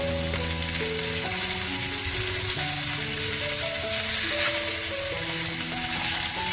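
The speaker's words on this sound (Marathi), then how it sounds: "दुसऱ्या साईडला आता आपण फ्राय करायला ते पलटी फिरवत जाऊ" Surmai kingfish fries in a pan with a steady, continuous sizzle under background music.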